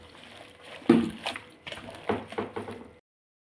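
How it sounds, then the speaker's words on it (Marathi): Chopped hadgya flowers being washed in water, with short close sloshes and splashes in a couple of bursts before a sudden stop. "आता हे पाण्याने धुवून घ्यायचं।"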